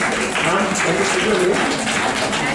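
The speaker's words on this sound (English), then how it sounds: "A round of applause for her." An audience applauds a woman who wins a quiz prize at a diabetes drawing competition event: a dense, continuous wash of clapping, steady and fairly loud throughout.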